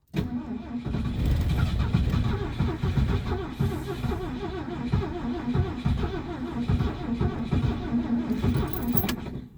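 A classic Ford being cold-started at -30 degrees: the starter cranks continuously, the engine catches, stumbles and struggles to run rough, holding loud and close throughout with a brief sharp burst near the end.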